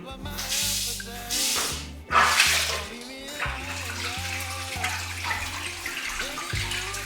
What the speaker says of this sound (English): And now the water comes.